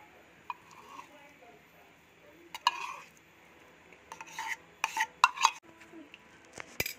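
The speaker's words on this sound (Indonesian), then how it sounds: "Lalu kita aduk sampai semuanya tercampur." Mashed potato and corned beef mixture gets stirred in a bowl, with scattered scraping and clinking of a spoon, quiet at first and then busier, while a voice talks over it.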